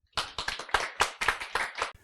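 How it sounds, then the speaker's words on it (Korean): Sparse applause from a small group, about a dozen crisp, slightly uneven claps over two seconds, close by with no talking. "박수로 안지욱 교수님을 환영해 주시기 바랍니다."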